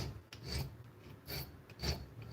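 A steel hand file rasps against a small copper heart clamped in a bench vise, three separate strokes at a steady pace, each one a close, gritty scrape with short quiet pauses in between.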